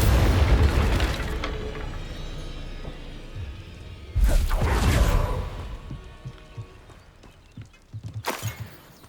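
A Confringo fire curse in the Hogwarts Legacy video game bursts in loud, booming explosions, three blasts spaced a few seconds apart. Each blast decays into a rumbling tail, with lighter clatter between them.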